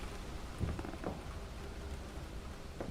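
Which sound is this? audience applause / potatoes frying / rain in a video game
rain in a video game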